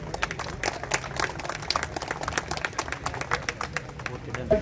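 Audience applause welcoming a guest at an Independence Day celebration, a steady spread of dense hand claps across the whole stretch with a murmuring crowd underneath.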